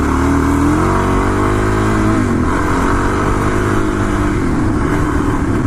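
Suzuki DRZ400 motorcycle riding off-road along dirt canal paths, its engine droning loud and steady with shifting revs throughout, no talking.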